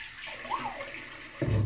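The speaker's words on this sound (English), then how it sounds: "All right, warm water rinse." Warm water running from a tap for a rinse after a shave, a soft steady splash with a brief gurgle, growing fuller and closer in the last moment.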